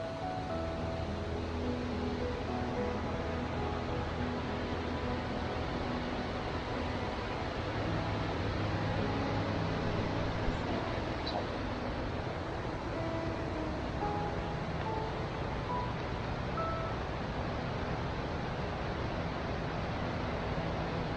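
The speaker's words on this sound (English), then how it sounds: "Nice bit of a waterfall happening over there in the background." A waterfall in Tasmania swollen by a week or two of heavy rain, heard as a steady, broad roar of falling water that continues without a break and sits some distance off in the background.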